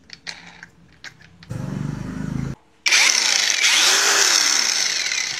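Keelat KAG006 brushless cordless angle grinder cuts through galvalume sheet: a loud, steady high-pitched whine and metallic screech running for several seconds after a short motor spin-up, with light handling knocks beforehand.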